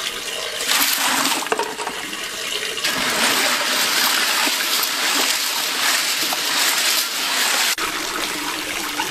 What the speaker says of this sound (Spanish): ponerle agua de la llave